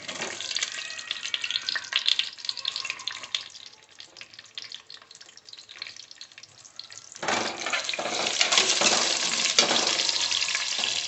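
Onions fry in hot oil for a mushroom biryani with a constant crackling sizzle. It is moderate at first, dips quieter in the middle, then swells louder and denser for the last few seconds.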